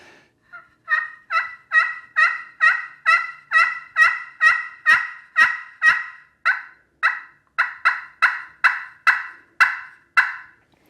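A rapid series of about twenty sharp, raspy yelps from a glass friction turkey call, evenly spaced and loud, with nothing else in the background.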